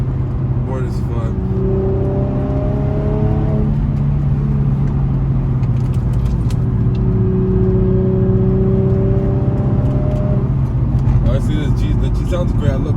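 An Infiniti G35 with its stock exhaust drives a winding mountain road at night, heard from inside the cabin. A steady engine drone rises and falls through gear changes, with speech running over it throughout.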